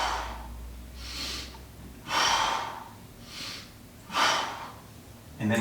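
Heavy breaths during a paused squat held under tension, slow airy inhales and exhales swelling and fading about every second, close to the mic with no talk.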